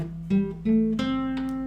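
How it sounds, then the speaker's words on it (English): A guitar plays a few notes of a C pentatonic scale in a short, clean run. Three or four plucked notes step upward quickly, close and unaccompanied. "That's now your pentatonic scale."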